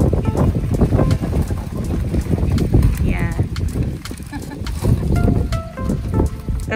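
Gusty wind buffets the microphone with loud, rumbling low bursts at an outdoor birthday celebration, blowing out a candle, while people talk underneath.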